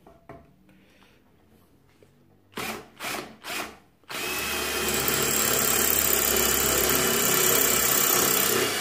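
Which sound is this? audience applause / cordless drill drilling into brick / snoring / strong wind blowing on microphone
cordless drill drilling into brick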